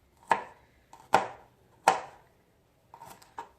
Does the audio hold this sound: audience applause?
no